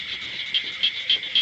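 Frogs croak in a wet rice field, with a steady raspy chorus broken by four louder, evenly spaced calls from a nearby frog.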